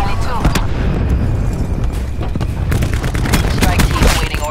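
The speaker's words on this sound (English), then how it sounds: "Cluster grenade going out." A cluster grenade goes off in Call of Duty Black Ops 4, a loud dense barrage of overlapping blasts and crackling bursts layered with gunfire, continuous and close throughout.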